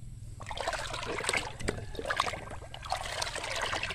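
Urea fertilizer stirred into 16 liters of water for bitter gourd plants, giving a soft, close trickle and slosh of liquid with small splashes running throughout.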